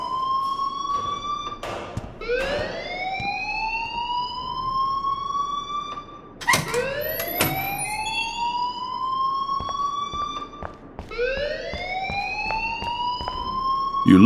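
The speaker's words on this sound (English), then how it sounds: "please turn off that alarm" An alarm in the video game Life Is Strange wails in loud, rising sweeps that repeat roughly three times, with sharp clicks and clatter in between and no talking.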